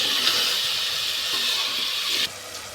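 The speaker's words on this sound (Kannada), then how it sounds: "ನೀರು ಹಾಕೋಣ." Water is poured into a pan of cooking biryani masala with tomatoes, a loud close rushing splash and hiss that stops abruptly near the end.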